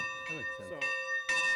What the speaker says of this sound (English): That bell signals this group's biggest event, their annual open house